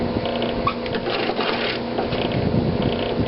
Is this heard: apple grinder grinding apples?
yes